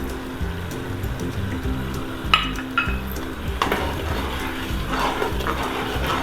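Dry spices roasting in hot oil for Sindhi biryani, a steady close sizzle with a spoon scraping and clinking against the pot now and then.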